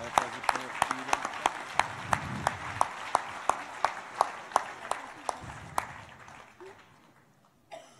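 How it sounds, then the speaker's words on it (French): Audience applause for the young girls of the ALSS Saint-Sébastien-sur-Loire basketball club at a community New Year's event, heard as a series of distinct, regular claps that thin out and fade toward the end. "Applaudissements pour elles, s'il vous plaît."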